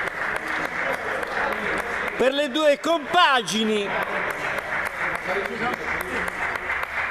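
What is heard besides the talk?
applause for both futsal teams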